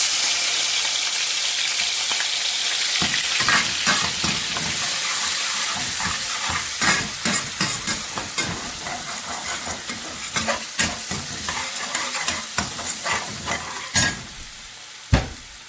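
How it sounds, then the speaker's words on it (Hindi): Cumin seeds and ginger-garlic paste sizzle steadily in a hot pan, with repeated scraping and clattering stirs that grow sharper and more frequent toward the end, close and clear with no talking. "और इसमें मैं डाल दूंगी थोड़ा सा जीरा, यहाँ पे है अदरक लहसुन का पेस्ट"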